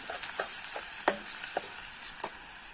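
Garlic frying in a pan while cooking tandalja greens, giving a steady bright sizzle with a few soft stirring knocks, close and continuous, no talk.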